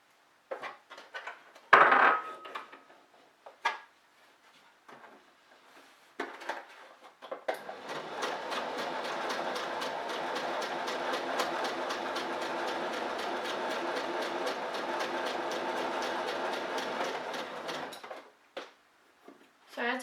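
Sewing machine running a straight seam about 1 cm from the edge of a small fabric sachet, a steady close mechanical whir with rapid stitch ticks lasting roughly ten seconds, preceded by a few handling clicks and a sharp clack.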